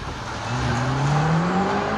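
Banger racing Ford Transit vans battling on an oval short track, with a loud roar of several engines rising together and tyres squealing at a distance, with no talk.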